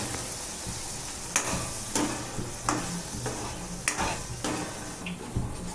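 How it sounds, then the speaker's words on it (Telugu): Ginger garlic paste and onions fry in a pan for a homestyle chicken curry, a steady sizzle broken by repeated scraping and stirring clinks of a spoon against the pan, close and fairly quiet. "పచ్చివాసన పోయేంత వరకు వేగించుకోవాలి"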